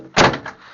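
A single solid thump of a Morris Minor's rear door shutting, close and sharp, followed by a faint rattle as it settles.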